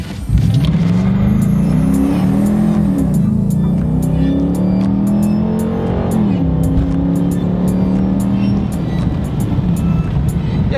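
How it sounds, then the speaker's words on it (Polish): A 2018 Dodge Charger with a 5.7 V8 HEMI running on LPG accelerates hard, its deep engine note climbing through gears with a brief dip at each shift, steady and loud from start to finish. "czyli przyspieszenie auta na gazie"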